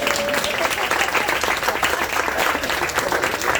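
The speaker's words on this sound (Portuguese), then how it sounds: "palmas para a Ana" An audience gives loud, sustained applause for Ana at a talk, a dense continuous patter of many hands clapping close by, steady from start to finish with some crowd murmur mixed in.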